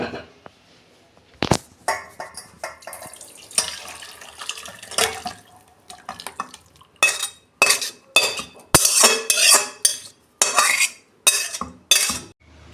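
Cooked egg curry is tipped out of a pan into a serving dish. Metal scrapes and clinks come in irregular bursts, loud and close, mixed with wet sloshing. They grow denser toward the end, with brief quiet gaps between.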